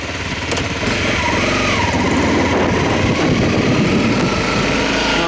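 A Honda motorcycle engine running in first gear, a close, loud, buzzy rattle that steadily rises in intensity after the first second and holds a busy, vibrating drone with no talking.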